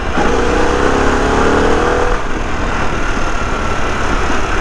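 Harley-Davidson Pan America motorcycle in sport mode, its engine pulling hard with a rising growl that climbs then settles into a loud steady drone, heard close from the rider's position with wind noise.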